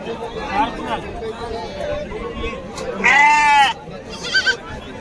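Sheep bleating at the Kashti livestock market, one loud close bleat standing out and a fainter one after it, over a busy backdrop of crowd chatter and people talking.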